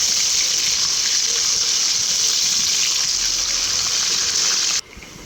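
Ginger paste and spices sauté in hot oil for a beef and potato curry, a loud, even sizzling hiss close by that runs steadily and then drops off abruptly near the end, with no voices.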